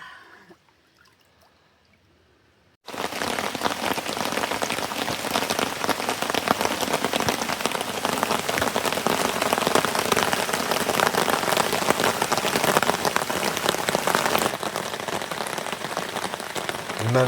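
Rain falling outdoors in France, a dense, even hiss of drops striking surfaces that starts abruptly after a quiet moment and keeps up steadily and loud for the rest of the stretch.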